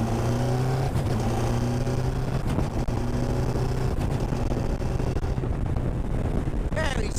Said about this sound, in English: Right, so just gotta punch it through the gears, Sean.